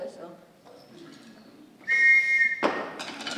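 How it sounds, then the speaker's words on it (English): A shrill police whistle used as auxiliary percussion at a middle school band concert sounds as a single sustained blast, loud and piercing, after some faint room noise, then gives way to a sudden noisy burst. "and the police whistle."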